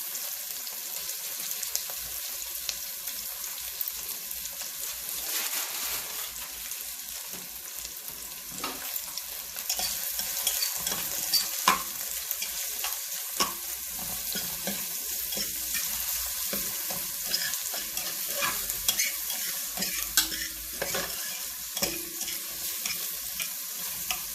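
Onions and peppers sauté in a pan with a continuous close sizzle and crackle. Occasional faint scraping stirs and ticks sound over it, and no voices are heard.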